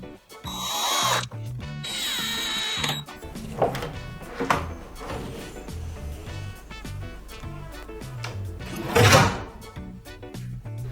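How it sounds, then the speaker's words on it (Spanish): A power screwdriver drives a screw into a telescopic drawer slide, with short whirring bursts, ratcheting clicks and metallic knocks of the slide mechanism, close up and intermittent. "como ya la encontramos, vamos a colocar un segundo tornillo ahí"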